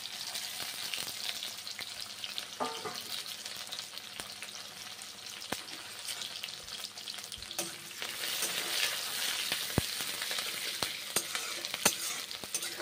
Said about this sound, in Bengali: পেঁয়াজগুলো কেটে নিয়েছি, পেঁয়াজগুলো ভেজে নিচ্ছি।